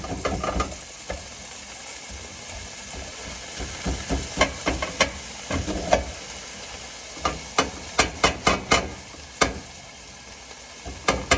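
A spatula scraping shredded hashbrowns frying in a pan, with steady close sizzling under a series of sharp scraping clicks that come in irregular clusters, with no voices present.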